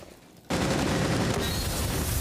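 Dense automatic gunfire in a competitive video game league match bursts in suddenly and continues as a loud, sustained fusillade of rapid shots with no voices over it.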